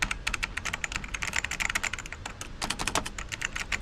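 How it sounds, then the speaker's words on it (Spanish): Rapid, close clattering of keys on an old computer keyboard, with a crisp irregular rhythm of keystrokes and a brief pause midway before the typing resumes. "me gusta cómo suenan las teclas"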